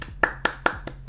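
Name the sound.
hand clapping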